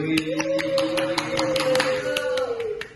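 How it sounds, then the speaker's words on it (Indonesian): Schoolchildren in a group-learning class clap their hands in quick, sharp bursts while a sustained voice talks over them, the claps loose and uneven rather than in unison. "Oke, tepuk tangan."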